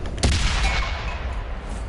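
A tank cannon fires once in World of Tanks on PS4, a loud booming shot near the start that rolls off into a long, decaying rumble with no talking.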